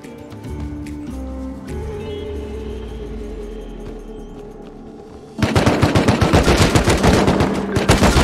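Gunfire in the survival game Rust: a quieter stretch of ambient game noise gives way to a loud, rapid burst of automatic shots that rattles on steadily to the end.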